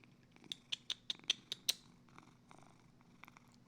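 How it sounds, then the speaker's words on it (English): A pet cat outside a door gives a quick run of about seven sharp, close chirping bursts within two seconds, followed by softer, lower purring and rustling. "Can you hear my cat outside the door?"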